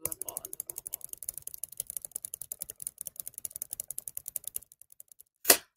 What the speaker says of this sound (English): I'm really gonna hate this part because of annoying clicking